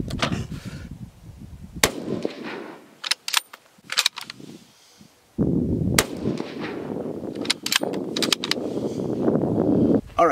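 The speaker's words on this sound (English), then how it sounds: "we're going to shoot Black Hills ammunition, which is the gold standard in accuracy" Sabatti Rover Tactical .308 rifle firing Black Hills 175 grain tipped Match King rounds outdoors: several loud, sharp shots spaced a few seconds apart, each with a booming tail, and no talking.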